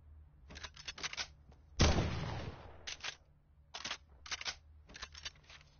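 AK rifle gunfire in a video game comes as repeated short bursts of sharp cracks, with one louder, longer blast near the middle, fairly close and with no talk.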